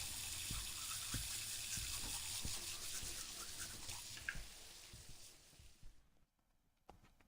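Steady tap water runs into a sink while teeth are brushed in a scary itch.io video game, a continuous faint gush with small drips that cuts off near the end.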